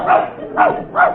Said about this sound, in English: Does he bark very much?